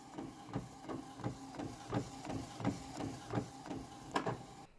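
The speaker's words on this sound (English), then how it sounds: "Make sure you have your sublimation paper loaded, and then click print." A printer runs a sheet of sublimation paper, producing a steady series of about eight evenly spaced mechanical thumps with a whirring hum between them. The sound is close and fairly quiet, with no voices.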